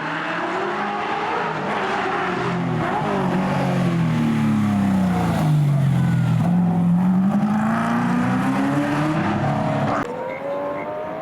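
A Nissan R35 GT-R races down a drag strip at a tarmac rally event, its engine loud and sustained as the pitch drops, then climbs again while the car pulls away, with no voices.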